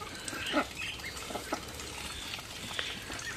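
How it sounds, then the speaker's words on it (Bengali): Ducks feed in the late afternoon, giving faint scattered quacks and soft pecking and patter at a modest distance over a low background hush. "তো হাঁসগুলো খাবার খাচ্ছে"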